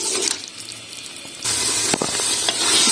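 Black chickpeas (kala chana) roast in a pan with a steady, soft sizzle and faint stirring scrapes, rising a little louder partway through.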